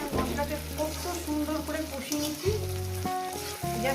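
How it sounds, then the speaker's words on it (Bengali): Spice paste for a Bengali fish curry sizzles as it is sautéed in a pan over lowered heat, a constant close frying hiss under a steady tonal backdrop that sounds like music. "দিয়ে মশলাটা কষাচ্ছি"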